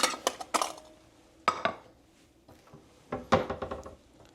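Plating sweet and sour tuna with crispy chow mein noodles: sharp clinks and knocks of utensils against dishes, in scattered bursts with quiet gaps between, close and clear with no talk.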